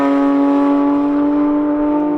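Porsche 992.2 GT3 engine on the road, heard from the cabin as a loud, steady roar holding a high, even pitch for the whole stretch, with no talk over it.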